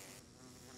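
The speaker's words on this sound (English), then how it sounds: "Oh, bees? I forgot those existed." Bees buzz in Minecraft, a steady close insect drone filling the whole brief moment with no talk.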